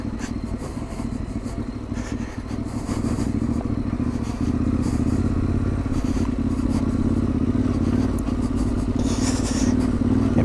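A motorcycle engine drones steadily and loudly close by, with rattling and clattering over rough ground throughout.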